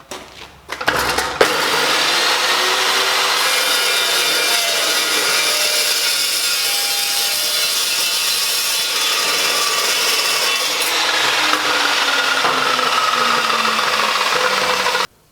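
An Evolution Raptor TCT chop saw cuts through wood, starting with a brief clatter and then a loud, steady, rough grinding whine held for over ten seconds, followed by a high spin-down whir before stopping abruptly.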